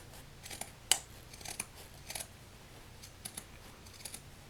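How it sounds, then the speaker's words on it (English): Pinking shears cutting through fabric while trimming a seam on a small sunglasses case, a few quiet snips and rustles up close, with one sharper click near the start. "I'm using pinking shears to trim this off."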